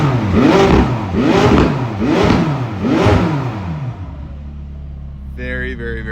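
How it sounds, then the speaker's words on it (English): A 2019 McLaren 600LT revs hard four times in a steady rhythm, each rising and falling exhaust roar close and loud, then settles into a low idle rumble. "I'm just gonna stick my phone out the car and have you listen to the exhaust"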